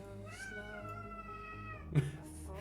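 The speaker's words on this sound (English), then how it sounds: "Hopefully the mic didn't pick up my cat." A pet cat meows in a drawn-out, tonal call close to the microphone, followed by a brief louder sound near the end.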